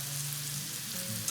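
Garlic and onion sizzling steadily in a pan for dirty rice, a constant close frying hiss with faint stirring, no voices.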